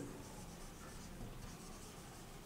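Pen writing out an accounting journal entry for a class 11 lesson, a steady soft scratching and rubbing on paper that runs without pause, close and quiet.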